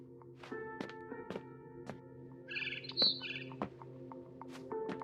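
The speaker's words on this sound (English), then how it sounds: "Then I heard chirping outside my window." A barn swallow chirps briefly in a high twittering burst amid quiet tapping and thunks, with a faint steady hum underneath, in the video game What Remains of Edith Finch.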